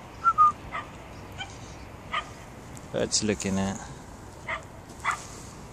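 A dog in Perrett's Park, Bristol, gives a few short yips and barks spread across several seconds, mid-distance, while someone talks over them outdoors.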